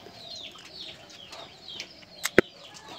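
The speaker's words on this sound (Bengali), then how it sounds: "এখানে কবুতর আছে" Native pigeons in a loft with chicks coo softly and repeatedly at close range. Two sharp knocks or wing-flap bursts stand out near the end, and no one speaks.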